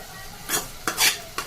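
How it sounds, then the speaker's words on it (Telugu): Bitter gourd pieces being stirred in a hot pan with curry leaves, three quick scraping strokes, each bringing a short burst of sizzle against a low background hiss. "కాకరకాయ ముక్కలు అన్నీ వేసాక మొత్తం ఒకసారి కలుపుకుందాం"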